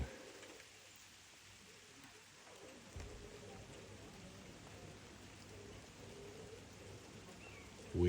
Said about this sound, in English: Don't care if it is raining